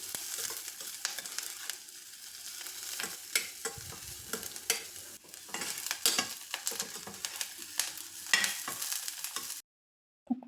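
Onions and green chillies stirred in a cooker pan for a Telugu-style dish, a continuous sizzle with repeated scraping strokes of the spoon, fairly close, no talking, ending in a brief silence.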